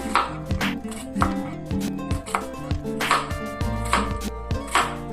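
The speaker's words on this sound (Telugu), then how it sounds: "ముందుగా మనం కే దోసకాయలు ఇలా పీల్ చేసిన తర్వాత కట్ చేసుకోవాలి చక్రాల్లాగా రౌండ్గా కట్ చేసేసుకొని" A knife chops peeled keera dosakaya (cucumber) into round slices on a board, giving a steady series of crisp, close cuts, roughly one or two per second.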